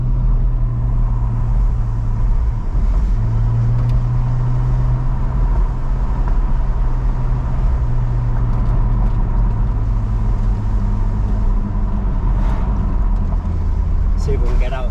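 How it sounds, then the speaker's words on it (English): Porsche 718 Cayman GTS 4.0 sports exhaust heard from inside while driving with the windows down: a constant low engine drone mixed with wind rush under continuous talking. "maybe you'll be able to hear more of the sports exhaust"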